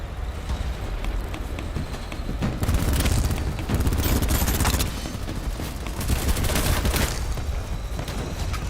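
Rapid bursts of hip-fire gunfire in the shooter game BattleBit, loud and dense, with heavy volleys around three and six seconds and steady crackling shots between.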